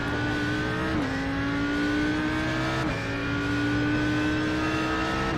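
An Audi R8 GT3 race car in a racing video game, flat out at Bathurst, its engine note droning loud and continuous, with pitch dips at gear shifts, close and without any voices.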